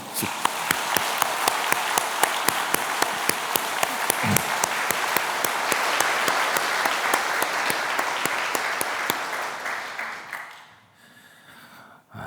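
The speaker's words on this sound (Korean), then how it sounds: "오늘도 박수 한 번" Sustained congregational applause at an early-morning special prayer service in a church, steady dense clapping filling the hall for about ten seconds before fading away.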